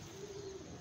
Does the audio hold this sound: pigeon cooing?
yes